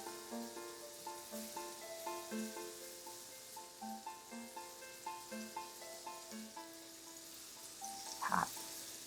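Shrimp frying in a hot pan for a jalapeño cilantro sauce dish, giving a soft, steady sizzle throughout with a repeating pattern of light tonal chirps and a brief louder crackle near the end.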